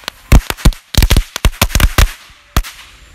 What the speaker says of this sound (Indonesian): Selanjutnya di sini sudah ada mercon semuk atau mercon korek.